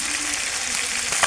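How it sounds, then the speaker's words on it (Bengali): Chicken pieces frying gently in oil over low heat for a chicken roast, giving a steady soft sizzle close by with no talk. "হালকা আঁচে মাংসগুলো ভেজে নেব।"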